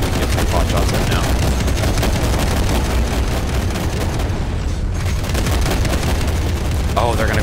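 Dense rapid gunfire and booming blasts from a shooter video game fill the scene continuously and loudly, with game voices briefly audible beneath the din.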